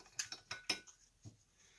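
Metal lamp parts twisting loose from a short threaded pipe, giving a quick run of faint, close clicks and ticks, then a softer knock, with no talking.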